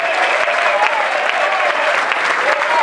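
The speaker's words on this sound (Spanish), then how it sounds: "¡Fuerte aplauso!" Loud sustained applause from an audience at an award ceremony, a thick continuous roar of clapping hands with voices mixed into the crowd noise.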